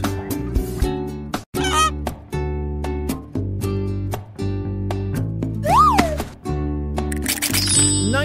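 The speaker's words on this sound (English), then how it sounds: "Goose." A goose honks in loud, repeated calls over a bouncy children's music backing track.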